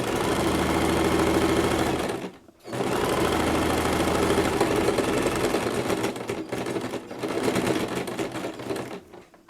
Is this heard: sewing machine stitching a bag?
yes